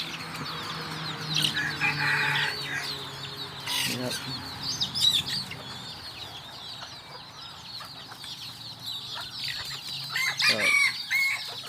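A batch of one to two hundred bantam chicks and chickens clucks and cheeps continuously, with a rooster crowing and occasional wing flapping, all fairly close and filling the scene without talk.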